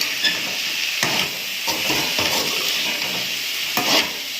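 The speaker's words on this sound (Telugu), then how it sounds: "దీన్ని ఇప్పుడు బాగా వేయించాలి." Fish eggs stir-fried in a pan, a constant close sizzle broken by several sharp scraping strokes of a spatula against the pan.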